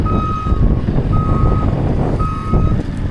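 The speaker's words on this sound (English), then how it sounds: "BJ's following me in the JCB" A JCB loader reversing while unloading lumber at a barn build site gives three evenly spaced loud reversing beeps over a heavy diesel engine rumble, close by, with no talk.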